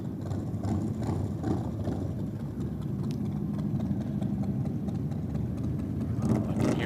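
Harley motorcycle engine at a night drag race at Sydney Dragway, a steady low mechanical rumble heard from some distance, continuous under crowd and track ambience with no clear revving peaks.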